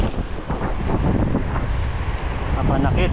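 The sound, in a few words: ocean waves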